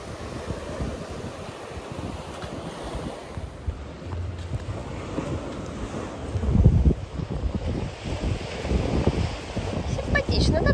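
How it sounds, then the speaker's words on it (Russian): Sea waves rolling in at a small seaside embankment in Novy Svet, Crimea, a broad wash of surf with wind buffeting the microphone and swelling breakers, with people talking nearby. "Тут же море шумит."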